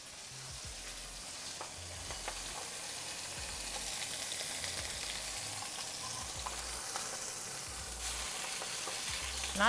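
A bone-in German-style pork chop sears in a hot pan, a steady, dense sizzle that holds at an even level and swells slightly, with small pops and no talking.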